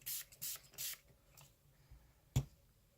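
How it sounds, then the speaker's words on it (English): A spray bottle spritzes rubbing alcohol onto glossy background paper in three quick, close hissing bursts, followed by quieter handling noises and a single sharp tap. "Spritz your background."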